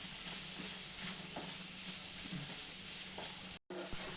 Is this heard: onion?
yes